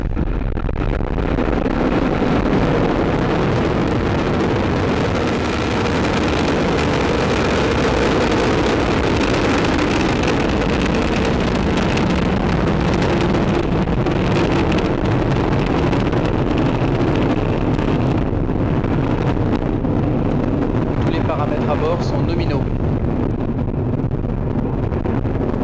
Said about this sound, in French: Ariane 5 beginning her mission, lifting off perfectly from the ground here in French Guiana with a lot of fire